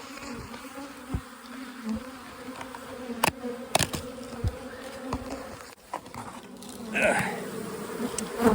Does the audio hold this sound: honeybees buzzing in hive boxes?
yes